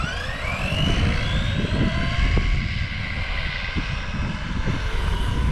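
An ARRMA Big Rock RC truck with a 20T pinion runs at full throttle on a windy day, giving off a loud, continuous, rising motor whine over rumbling wind noise, with no talking.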